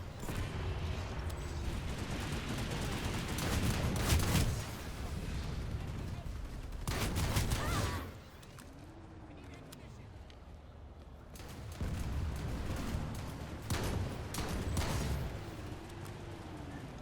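FA1 Barrage heavy weapon in Planetside 2 firing in bursts of sharp gunfire blasts, with brief pauses between volleys and someone talking over the shots throughout.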